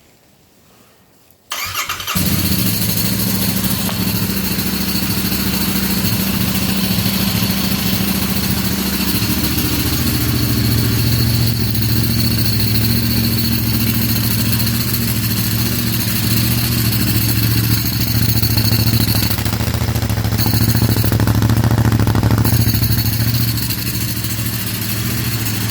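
A Royal Enfield Interceptor 650 with a 2-into-1 stinger exhaust cranks and fires after a brief quiet moment, then settles into a loud, close, steady idle with a deep throb that runs uninterrupted to the end.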